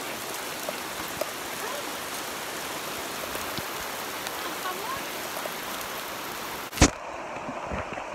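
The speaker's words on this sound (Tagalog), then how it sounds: "Yo, ulan na." Steady rain falling outdoors, an even wash of droplets heard throughout, interrupted near the end by one sharp loud knock before the rain continues more faintly.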